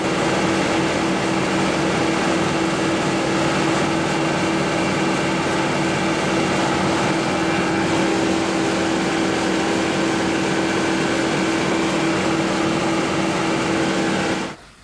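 An N50 rice polishing machine runs in a rice mill, giving off a loud, steady mechanical roar with a constant hum that continues unbroken for the whole stretch, with no voices.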